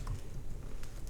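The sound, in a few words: computer keyboard typing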